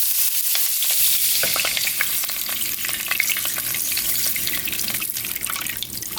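Chicken broth pours steadily into a hot pan, sizzling and bubbling continuously with crackling hiss throughout, no talking.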